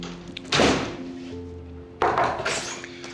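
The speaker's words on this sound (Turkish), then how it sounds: "Hadi kapat kapıyı." A door is shut twice in an indoor room, two solid thunks about a second and a half apart, with faint background hum and no talking.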